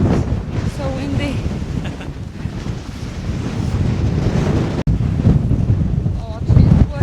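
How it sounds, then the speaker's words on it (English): Heavy wind buffeting the microphone on an exposed hilltop ridge in the Peak District, a loud low rumble with gusts, while a voice speaks briefly over it. "Wow, so windy."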